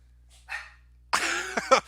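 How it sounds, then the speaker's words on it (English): Dogs barking indoors, a faint yip first and then a louder burst of close, rough barks in quick succession. "My dogs are going insane right now for some reason."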